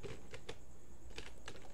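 Code being typed on a computer keyboard: a few light, quick keystroke clicks spread over a quiet, steady background with no voices.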